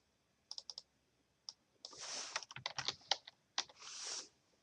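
Quick bursts of keystrokes on a computer keyboard while entering an answer into a SMART Board template, with irregular clicks and short pauses between them, close and fairly quiet, no talking.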